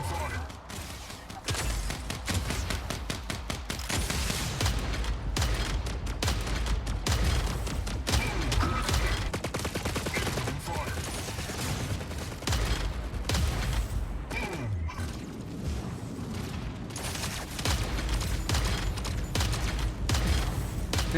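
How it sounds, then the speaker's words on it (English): Fragment guns in the mech combat game Mech Arena fire in rapid, dense bursts of clattering shots with mechanical clanks, continuous and loud for the whole stretch, with no talking. "Next, the fragment guns."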